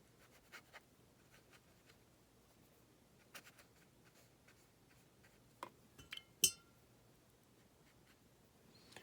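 A paintbrush swirls and taps in a glass of water while paint is mixed for a portrait, giving faint scattered clinks and scratchy strokes over a quiet room.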